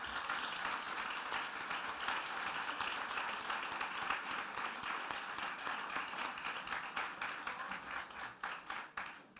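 Sustained applause from a large crowd at a mariachi performance, dense steady clapping that thins slightly toward the end.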